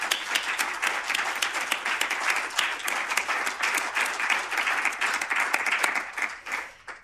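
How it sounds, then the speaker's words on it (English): An audience at a product launch event in Melbourne gives a sustained round of applause, dense steady clapping from a crowd that holds for several seconds before tapering off at the end. "let's give everybody a big round of applause"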